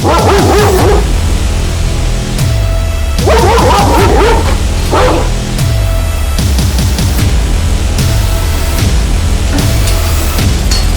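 A dog barks aggressively in loud, close bursts, with clusters of sharp barks separated by short pauses, some yelping and whining tones mixed in; no talking heard.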